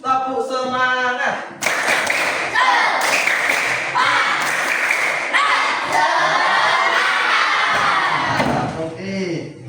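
Schoolchildren in a classroom shout a rhythmic 'tepuk semangat' cheer, clapping loudly in bursts between the chanted lines. A teacher's voice opens the chant, and a tail of voices trails off at the end.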